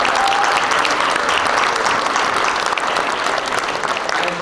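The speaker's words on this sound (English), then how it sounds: "I just want to give a round of applause to my fellow colleagues who helped us get" Loud, close round of applause from a crowd at a public library branch opening in Scarborough, dense steady clapping that holds evenly without talk.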